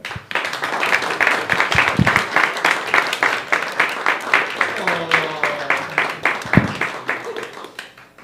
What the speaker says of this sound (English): Please help me welcome, with a big round of applause, my best friend, Ayman.